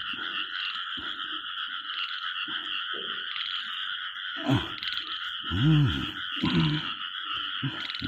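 Frogs croaking at night in a rural field, a steady chorus of close, throaty croaks repeating in uneven pulses over a constant high drone of insects.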